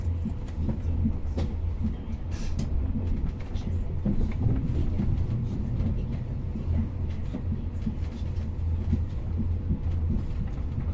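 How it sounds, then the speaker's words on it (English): A train passing near a railway station in Pécs, Hungary, its low, steady rumble rolling on continuously with faint clatter on top, fairly close and unbroken throughout. "this is another train, God knows from which town or city"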